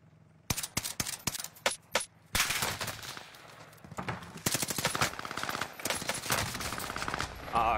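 Rapid bursts of automatic gunfire from a first-person shooter game, sharp close shots in quick strings with short pauses, then denser sustained firing, with no talking.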